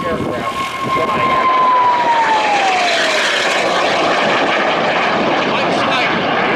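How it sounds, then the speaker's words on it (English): A race aircraft at an airshow roars past loud and close, its engine pitch sliding downward as it passes, then fading into a broad rushing drone while an announcer talks over it. "This is exactly the way we would see these aircraft flying."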